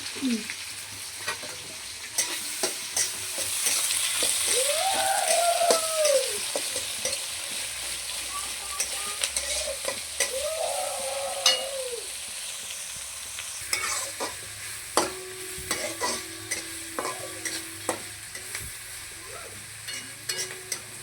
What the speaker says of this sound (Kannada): ಉಳ್ಳಾಗಡ್ಡಿ ಈಗ ಹಾಕಿ ಫ್ರೈ ಮಾಡ್ತಿ